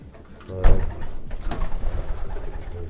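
Racing pigeon hens kept for sprint and middle-distance flying coo in a loft, a couple of soft, throaty rolling calls close by, with low rustling between them.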